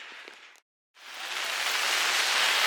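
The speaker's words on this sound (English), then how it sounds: "It's raining now." Steady heavy rain pours down outdoors during a summer festival in Shari, Hokkaido, a dense hiss that breaks off briefly and then returns louder and fuller, with no talk.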